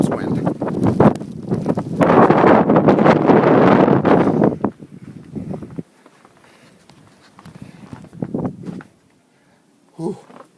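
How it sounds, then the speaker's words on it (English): Strong blizzard wind roars and buffets the microphone outdoors in heavy snow, loud and sustained for several seconds before dropping to a quieter gusty background with occasional rustles. "That was wind."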